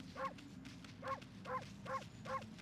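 Five separate short barks in an evenly spaced rhythm from a dog in the Okami video game, triggered by the bark button, each a bright close yip over a low constant background drone.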